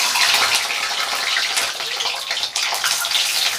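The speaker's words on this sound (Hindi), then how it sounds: "यहाँ पर तेल गर्म हो चुका है, और एक एक अंडा ऐसे डालेंगे आराम से धीरे धीरे, और इसे कलर ब्राउन होने तक फ्राई करेंगे।" Eggs sizzling and frying in hot oil in a pan, a steady broadband crackling hiss that runs loud and unbroken throughout, with no voices.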